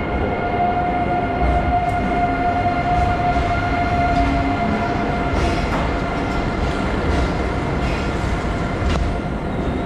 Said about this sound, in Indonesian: Nah, ini dia kereta kita